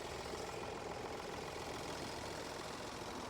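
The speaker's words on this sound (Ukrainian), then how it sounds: "Тиха робота стабільна мотора" Steady idle of a 2020 Opel Astra 1.5 diesel engine, a continuous low rumble with a faint rhythmic knock, close by and unchanging throughout, no voices.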